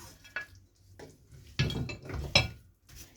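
Shrimp go into a pot of boiling chilli garlic sauce, heard as a few soft splashes and clatters followed by stirring and scraping in the pan, close and moderately loud.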